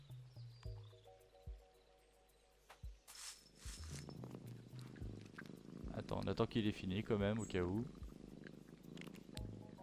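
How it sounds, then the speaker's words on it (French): A cat in a video game purrs with a soft rumbling texture under a person talking, amid game tones and animal sounds. "c'est trop agréable de l'entendre ronronner"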